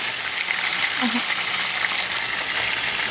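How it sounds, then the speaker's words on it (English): Shrimp coated in cornstarch frying in hot oil, a steady close sizzle and crackle that holds evenly throughout with no speech. "when you're frying the shrimp"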